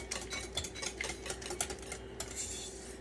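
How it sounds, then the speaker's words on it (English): A utensil scrapes and taps quickly against a bowl, mixing three tablespoons of butter into pancake batter in a steady, fast rhythm, close and fairly quiet. "the last thing I'm going to add is 3 tablespoons of butter. And I'm just going to mix that in quickly so it's incorporated"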